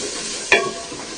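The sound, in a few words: stirring chickpea curry with masala in a pot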